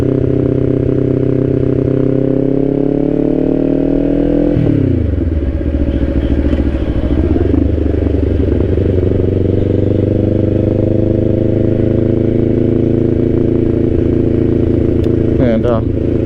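A 2024 Kawasaki Ninja 500 KRT SE is ridden toward a lake. Its engine drones steadily and loudly throughout, with one clear drop in pitch partway through before it settles into a lower cruising hum.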